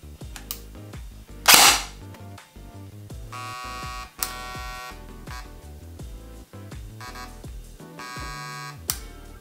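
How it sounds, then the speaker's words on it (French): A PPK20 Lancer Tactical airsoft gun fires a sharp, loud burst near 1.6 seconds, with fainter snaps later, over a steady background of music. "On va maintenant configurer le mode automatique sur 3 coups."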